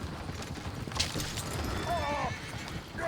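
Horses pulling a coach in Red Dead Redemption 2 clatter with steady hoof clip-clop and a brief whinny near the middle, beneath busy game ambience and a voice.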